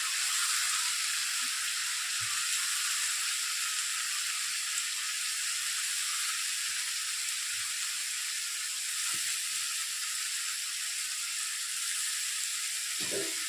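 Banana flower, first boiled with salt and turmeric, fries in a pan with a steady hissing sizzle throughout, close and even, with a few soft knocks of a spoon and no talking.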